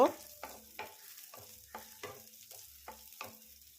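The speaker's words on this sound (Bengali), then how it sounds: "কিছুটা কিশমিশ দিয়ে দিলাম এটাকে আমি এইভাবে কিছুক্ষণ নেড়ে ভেজে নেব" Sliced dry fruits and raisins frying in a pan, stirred with a spatula that scrapes the bottom in a regular rhythm of about ten strokes over a faint sizzle, close and quiet.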